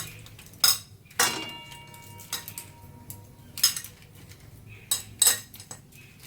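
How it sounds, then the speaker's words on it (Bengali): Raw shrimp being mixed by hand with salt and turmeric in a bowl, with several sharp clinks and knocks against the dish spaced irregularly over low, quiet handling noise. "চিংড়ি মাছটা একটু মেখে নিচ্ছি সুন্দর করে নুন হলুদ দিয়ে।"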